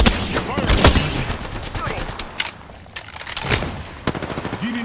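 Bursts of automatic gunfire in Apex Legends ranked play, loud clustered shots with sharp single cracks between them and faint talk mixed in.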